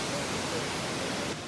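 Wulai waterfall in Taiwan sends out a steady, dense hiss of rushing water that fills the short stretch evenly and eases slightly at the very end.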